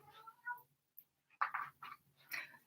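A pet cat meows several times in short, close bursts, the cries fairly loud with pauses between them in a quiet room.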